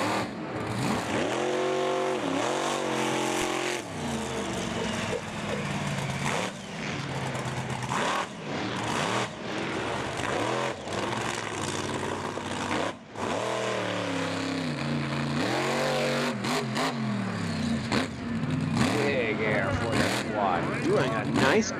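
Monster truck engines roar at a drag race event, with rising and falling revs and a busy, loud mix of motor noise while an announcer talks over it.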